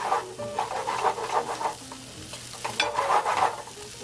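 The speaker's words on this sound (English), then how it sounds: "a little fish stock, and we let it simmer" A pan sauce of fish stock for Oysters Bienville bubbles and simmers up close in a restaurant kitchen. It makes soft, uneven sizzling bursts with light stirring, and there is no talk.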